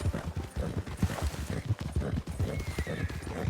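Horse in Red Dead Redemption 2 galloping hard during a winter endurance race, steady rapid hoofbeats thudding close and loud throughout, with a brief whinny mixed in.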